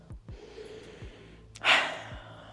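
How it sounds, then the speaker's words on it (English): A single sharp nasal sniff of a pair of 2014 Jordan 11 Legend Blue sneakers during an unboxing, close and fairly loud after a few soft thumps and rustles. "You know, you got to do the sniff test."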